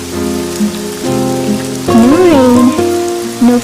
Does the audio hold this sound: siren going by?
no